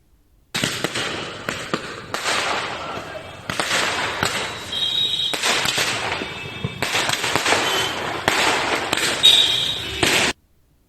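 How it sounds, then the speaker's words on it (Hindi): Diwali fireworks go off on city streets, a dense run of sharp crackles and pops that continues steadily for about ten seconds. "सड़कों पर आतिशबाजी हुई है"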